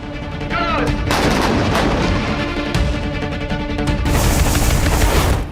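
Missile launch in news footage, a loud continuous roaring blast with rumbling bursts that sustains for several seconds without pause.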